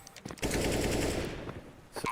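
Rapid automatic gunfire rings out in a Counter-Strike professional esports match, a sustained burst of close shots lasting over a second, followed by a few isolated shots.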